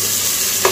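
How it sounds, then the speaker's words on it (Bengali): Shrimp dropped into a hot pan of partly cooked vegetables and potato for noodles, giving a steady close sizzle with a brief sharper hiss near the end as they hit the pan. "এখন হচ্ছে আমি চিংড়ি মাছগুলো দিব।"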